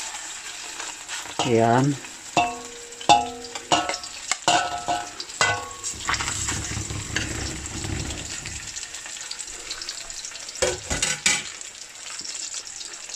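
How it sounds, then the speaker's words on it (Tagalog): Chicken breast frying in olive oil in a pan, a steady sizzle broken by sharp clacks and scrapes of a utensil moving the pieces, with a brief spoken word early on. "Ipapry natin ulit ito. Same procedure."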